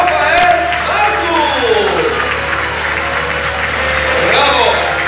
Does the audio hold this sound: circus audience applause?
yes